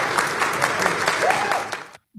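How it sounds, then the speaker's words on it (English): A crowd at a press conference breaks into sustained applause, a dense wash of many hands clapping fairly close, continuing steadily before cutting off abruptly. "Bro's got people clapping for his answer at a random press conference."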